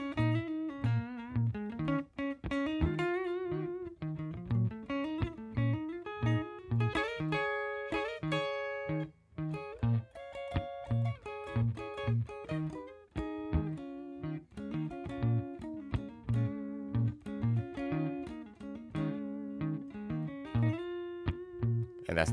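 A guitar plays a written-out lo-fi solo: melodic picked lines over a steady low pulse, heard close and clear for over twenty seconds with no talking.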